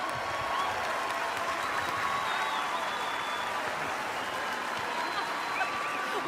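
Sustained applause from a large concert audience for the orchestra's musicians at an Australia Day live concert, a dense, even wash of clapping with faint crowd noise, steady throughout.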